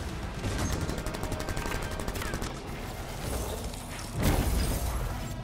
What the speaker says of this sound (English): This is how you do a machine pistol.